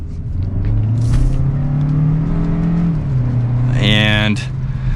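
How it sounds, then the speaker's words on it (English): A 2022 Kia K5 GT Line with a small turbocharged engine accelerates hard. Its loud, close engine drone climbs in pitch, dips briefly at a shift, then pulls again before easing off. "So let's do one more acceleration here."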